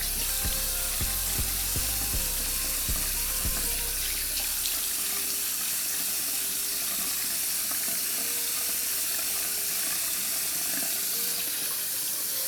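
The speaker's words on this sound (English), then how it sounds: "So I'm gonna start straight by just genuinely washing my head." Tap water runs steadily and fairly loud during a shampoo head wash, with a few sharp clicks and knocks in the first seconds, then a constant splashing rush.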